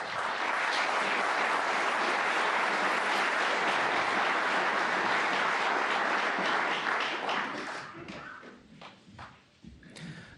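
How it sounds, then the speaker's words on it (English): Snooker arena crowd breaking into a loud, sustained burst of applause at the World Snooker Championship, holding steady for several seconds before thinning into scattered claps and fading out. "The burst of applause wasn't for that mundane safety shot"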